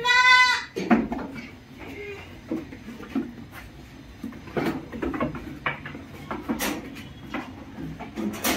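Goats and their young kids, including a Sojat breed doe, bleat repeatedly up close in a pen, sharp cries rising over rustling and scattered handling noises.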